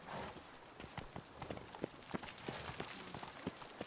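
In The Witcher 3: Wild Hunt, Geralt's horse Roach walks along behind him, with a steady clip-clop of hooves on the ground that is fairly faint and regular and carries no talk.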